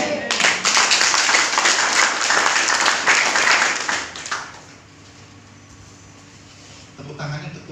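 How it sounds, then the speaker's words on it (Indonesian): Audience applause at an Indonesian church testimony, a dense burst of clapping lasting about four seconds before fading into quiet room tone, with talking afterward. "Tepuk tangannya untuk Tuhan kan?"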